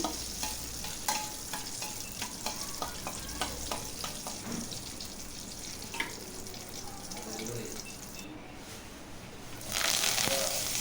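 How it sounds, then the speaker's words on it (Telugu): Cinnamon, cloves and bay leaf sizzle in hot oil in a pan for a paneer curry, with scraping stirs and small clinks over a steady frying hiss that swells near the end. "ఆయిల్ హీట్ అయిన తర్వాత అందులోకి చెక్క లవంగాలు ఆకు ఇలా వేసుకొని బాగా కలుపుకోవాలి"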